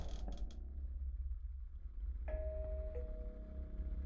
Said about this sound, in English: Who just rang the doorbell?